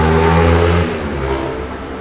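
A motorcycle engine revs close by, a loud harmonic growl that holds, then drops in pitch and settles to a lower idle over two seconds.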